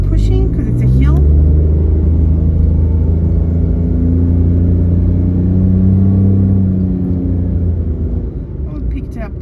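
A car pulls away from a green traffic light and accelerates uphill, its engine droning loud and steady with rising tones beneath a person talking.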